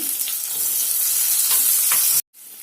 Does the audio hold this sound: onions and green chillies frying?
yes